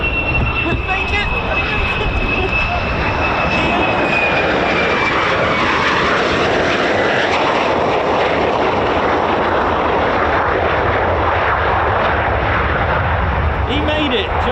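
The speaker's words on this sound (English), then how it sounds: "let me catch this F-35" An F-35 fighter jet roars past near RAF Lakenheath, a loud, continuous engine rumble filling the whole stretch while an onlooker talks over it.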